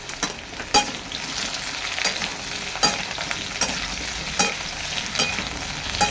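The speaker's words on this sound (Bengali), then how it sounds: "এখন আলুগুলো ভাজা হয়ে গেছে এলাচগুলো আমি ওপরটা ছড়ে দেবো দিয়ে আবার আলুগুলোকে নেড়ে চেড়ে নেবো" Fried potatoes sizzle steadily in a pan as a utensil stirs them, with sharp scraping clacks recurring roughly every second over the constant close frying hiss.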